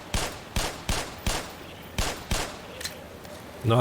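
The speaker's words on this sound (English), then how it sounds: "Guess I can use the pistol to deal with the exploding houndeyes" Pistol shots ring out in the Black Mesa video game, about seven sharp, evenly spaced cracks fired in a steady rhythm, followed by a brief low thud at the end.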